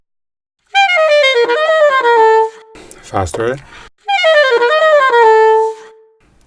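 A saxophone plays rich overtone notes stepping through a descending line, a short spoken word in between, then the overtone run repeats.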